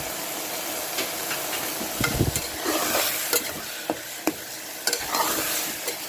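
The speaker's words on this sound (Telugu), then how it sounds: "ఇది బాగా నూనెలో ఉడకాలండి." Ground ivy gourd chutney paste with turmeric cooking in oil, a low bubbling sizzle under repeated scraping stirs and sharp spoon knocks against the pan, no voices.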